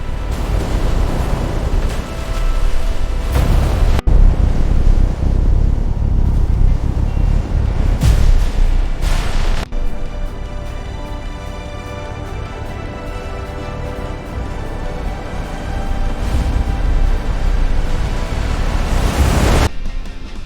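Strong cyclone winds roar in a loud, continuous broadband rush with surging gusts, heavy and steady throughout with no voices.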